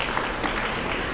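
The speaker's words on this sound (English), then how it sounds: "If you'll hold your applause" Audience applause at a women's club gathering, a brief, dense patch of clapping that sounds close.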